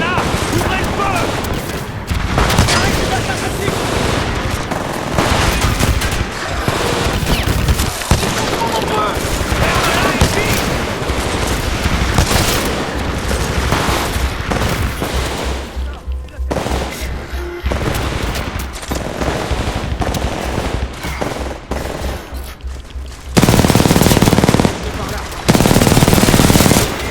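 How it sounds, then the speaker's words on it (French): Gunfire in the video game Titanfall 2 on PS5, with long dense bursts of automatic fire and explosions going nearly without a break, loud and mixed with game sounds and short stretches of voice. "Et voilà, ouvrez le feu."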